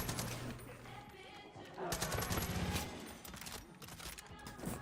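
Rapid bursts of automatic gunfire in the video game Far Cry 5 crackle in quick rhythmic volleys, some near and some farther off, with voices talking underneath.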